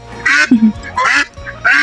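Ducks bought on a trip delivering a cow to a customer quack loudly and close by, in several short harsh bursts with brief gaps between them.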